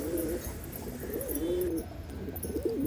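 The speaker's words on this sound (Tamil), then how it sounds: "கொஞ்சம் லைனேஜ் புறாக்களை இந்த வீடியோவில் உங்களுக்கு காமிக்கிறேன்" Lineage racing pigeons kept as breeding pairs coo in soft, wavering repeated calls, close and clear over a steady background hum.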